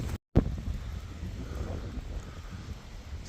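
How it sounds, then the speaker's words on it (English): Steady rushing wind picks up ahead of a storm, buffeting the microphone with a low rumble after a brief dropout at the start. "It's gotten real windy, but it hasn't started raining yet."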